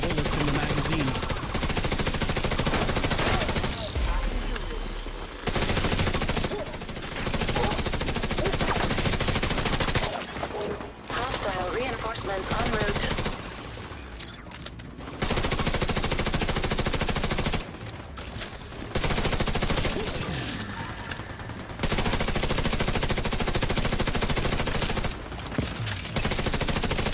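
Sustained automatic gunfire in The Division 2, long rattling bursts from a high-capacity magazine broken by short pauses, loud and dense throughout with game effects around it.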